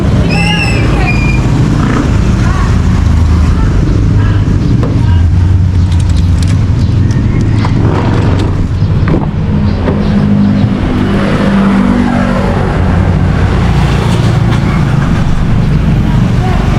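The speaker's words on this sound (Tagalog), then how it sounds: "Papaandarin ko lang yung sasakyan para malamig na" Car engine running loud and close, a steady low rumble with some revving, and people talking over it.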